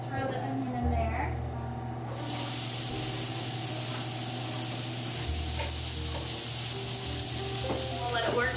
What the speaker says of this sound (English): We're just gonna do 2 tablespoons of oil. Throw the onion in there.